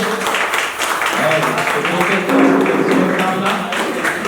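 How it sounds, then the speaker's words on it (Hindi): Steady applause from an audience welcoming artists at a Maithili awards press event, a dense patter of hands running throughout with voices mixed in over it. "हम हार्दिक अनुरोध करबै जोरदार ताली से स्वागत हो"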